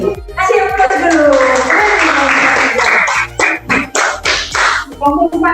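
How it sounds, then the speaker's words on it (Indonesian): A small class group bursts into applause, a loud, close patter of clapping that thins into scattered claps, with voices and chatter mixed in. "Kasih aplaus dulu."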